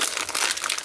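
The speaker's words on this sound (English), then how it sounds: "I'm actually going to reuse that piece of tape." A reused strip of tape peeled off a papercrafting supply bag, a brief close crinkly tearing rasp lasting under a second.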